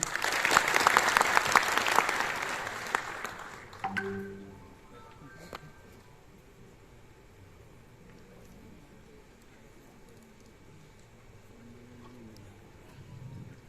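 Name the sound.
audience applause welcoming the district magistrate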